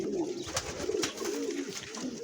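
Pigeons at a nesting spot with eggs and squabs give low, throaty coos in a soft repeated rolling pattern, heard close and alone.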